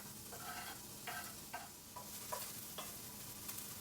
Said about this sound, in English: as you put them in, you should hear a bit of a sizzling sound